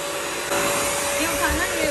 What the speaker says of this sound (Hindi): ये इस तरह से साफ पानी से वैक्यूम करता जाता है, पोछा लगाता जाता है